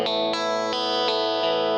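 A clean electric guitar through a Rock-Box pedal playing sustained chords, struck about every third of a second, with a squeezed, even, compressed level and bright shimmer.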